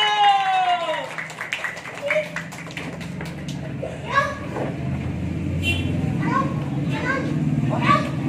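Children at a primary school scout camp clap their hands in scattered bursts amid lively chatter and shouting from the group.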